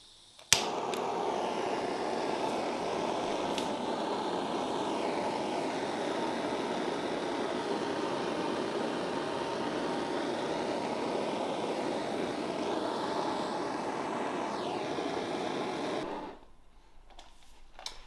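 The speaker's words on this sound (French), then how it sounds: "J'ai pris le chalumeau et j'ai brûlé la partie extérieure." A blowtorch burns the outer faces of wooden planks for a homemade worm composter, a steady close roaring hiss lasting about sixteen seconds before cutting off, with a couple of faint knocks at the start.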